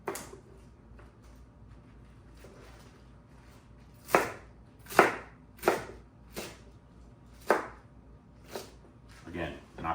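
A knife chopping napa cabbage for kimchi on a board, about eight sharp, evenly spaced close cuts over quiet room background, with a person speaking softly at times.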